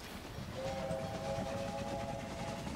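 A train in the railway management game Railway Empire gives a short whistle-like tone over a steady rumbling background, brief and fairly faint, with no talking.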